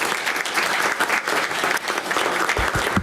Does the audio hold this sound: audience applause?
yes